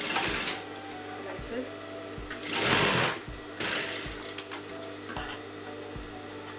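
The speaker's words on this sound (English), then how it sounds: "Just fold this fabric on the canvas and just sew that together" A sewing machine stitching fabric onto canvas runs in short bursts with a rhythmic mechanical whir, close and clear, with brief speech partway through.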